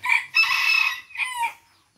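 A single rooster crows up close, a loud, strained call in a few rising and falling bursts that fades out at the end.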